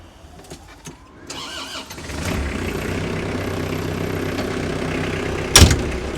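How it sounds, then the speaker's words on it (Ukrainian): An ISEKI GEAS 53 tractor's four-cylinder engine cranks and catches, then settles into a steady, even idle up close, with a brief knock near the end. "Чотирьохциліндровий двигун працює як годинник, як в автомобіля"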